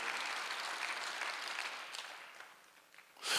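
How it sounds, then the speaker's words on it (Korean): Congregation at a Sunday church service applauds together in a steady wash of clapping that gradually fades, with a brief burst at the close. "박수를 하세요."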